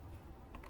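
A mouse click on the bookmark star in a web browser, a few quick soft clicks close by and alone.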